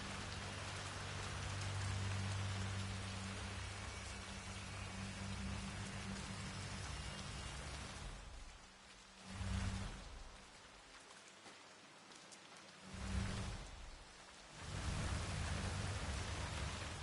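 Steady rainfall in the video game Hitman 3, a constant hiss of drops on surfaces with a low rumble beneath, dipping quieter and swelling back a few times in the second half.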